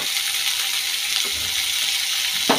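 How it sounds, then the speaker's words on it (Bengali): Papaya frying in a pan gives a dense, continuous loud sizzle close up, with a faint stirring scrape near the end. "আর এখানে পেঁপেটা ভাজা হচ্ছে এখন"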